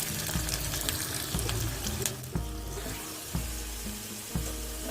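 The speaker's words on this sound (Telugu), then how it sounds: "వేయించుకోవాలి గోల్డెన్ కలర్ వచ్చేదాక ఇలా వేయించుకోవాలి" Oil tempering sizzles and crackles in a pan until golden, alongside scraping and stirring clicks, a steady frying hiss with a few sharp pops.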